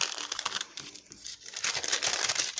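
Fabric being cut with scissors while sewing a tunic for a doll, a run of close crisp snipping and crinkling rustles that starts and stops over a couple of seconds, with no voices.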